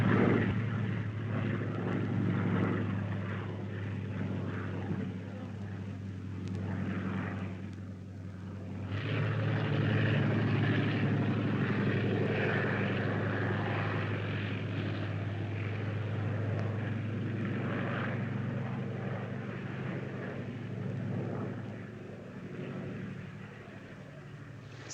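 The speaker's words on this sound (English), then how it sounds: "Scouting plane, Wiesler Storch." Fieseler Storch scouting plane, a WWII German propeller aircraft, flying with a steady low droning hum that swells slightly midway, continuous and moderately near, with no talk over it.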